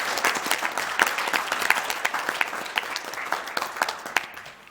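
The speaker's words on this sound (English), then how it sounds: "So let's give Ruth a big round of applause" Applause from the audience at the Ruth for Women launch evening, a dense, steady wash of many hands clapping close by that carries on for several seconds before easing off.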